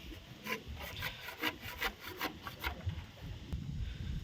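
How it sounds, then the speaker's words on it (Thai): Hand saw cutting through wood during well-pump assembly work outdoors, a steady run of about a dozen rasping back-and-forth strokes over a constant background hum. "ให้เพิ่นเลื่อยไปก่อน"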